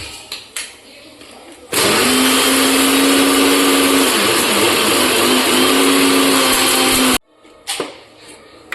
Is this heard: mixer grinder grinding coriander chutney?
yes